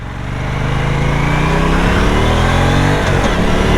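Aprilia RS 457 motorcycle revving its engine, a loud continuous exhaust note that rises steadily in pitch and holds near and strong throughout, with no voices.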